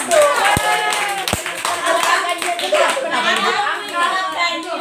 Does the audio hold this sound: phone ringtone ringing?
no